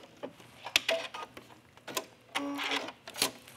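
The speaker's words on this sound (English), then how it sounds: "I'm sure you don't need to watch me sew 3 buttonholes" Domestic sewing machine stitching buttonholes on a top's alternate neckline, heard as short bursts of whirring stitches separated by pauses, close and fairly quiet with no talk.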